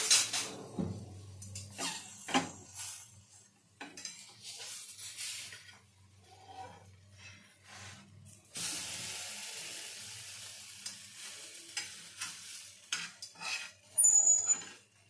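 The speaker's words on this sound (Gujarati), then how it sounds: "હવે આપણા બનને શેકી લઈશું. સાવ ધીમા ગેસે શેકશું." Buns toast in ghee or butter on a very low flame, with a faint, intermittent hiss broken by scattered spatula scrapes and clinks against the pan and no talking.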